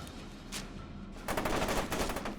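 Sustained automatic gunfire in the FEAR 2: Project Origin shooter, steady crackling bursts that grow denser and louder partway through, with no talking.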